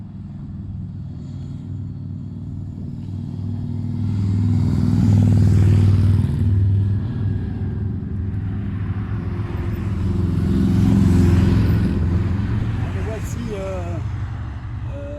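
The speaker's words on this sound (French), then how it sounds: "c'est une voie où les voitures roulent vite" Cars speed along a road in Wimereux, two loud passing swells of tyre and engine roar rising and fading one after another, close by.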